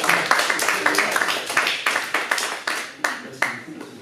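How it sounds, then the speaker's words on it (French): Audience clapping after a talk on horses and coaching, a close, steady burst of many hands with distinct individual claps that thins toward the end. "On peut vous applaudir"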